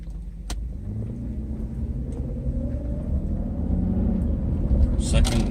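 A Mercedes 600SL engine pulls steadily in first gear from inside the car, a low rumble that builds gradually toward the end, with a person talking over it.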